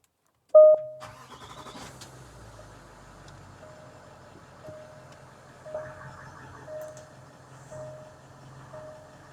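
A Range Rover SUV engine cranks and catches with a sharp burst, then settles into a steady low idle, with a faint repeating chime ticking over the rumble.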